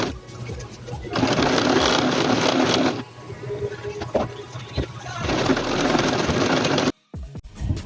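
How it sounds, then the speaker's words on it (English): A sewing machine runs a seam on Ashoka fabric for a bubu dress in two steady whirring bursts of a few seconds each, close and clear, separated by a pause with light handling noise. "So I'll go ahead to sew from here all the way to the bottom"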